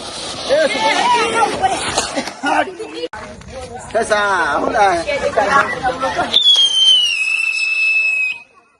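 Diwali firecrackers pop and crackle under loud, lively voices and chatter, followed near the end by a long falling whistle as a rocket goes off.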